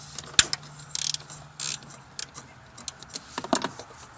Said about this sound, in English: So I will start by taking the 10mm bolt off of the bottom of the intake manifold